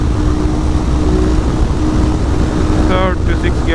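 A Husqvarna 701 motorcycle engine runs at speed under a heavy, steady roar of wind buffeting the microphone, with a brief tonal whine near the end.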